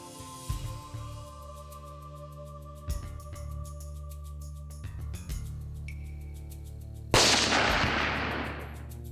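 Gunshot from a deer hunting rifle over a clover field in the woods: one loud, sharp report with a decaying tail, heard late against a steady background hum and fainter earlier thumps.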